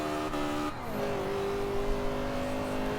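A 50-year-old MINI in Forza Horizon 2 holds a steady high-revving engine drone with shifting pitch as the tires spin through a burnout, loud and close with no talking.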